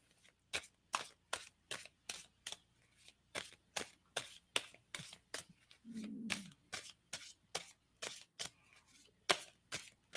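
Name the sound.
shuffling tarot cards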